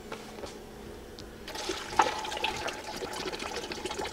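Broth pouring into a pot of bouillabaisse, a rushing liquid splash starting after a quiet lead-in and continuing steadily to the end, close and moderately loud.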